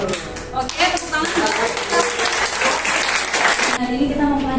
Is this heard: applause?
yes